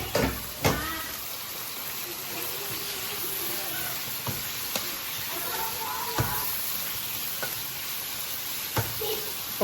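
Prawns fry with crushed garlic in a pan, a steady close sizzle running throughout with occasional stirring scrapes and clicks.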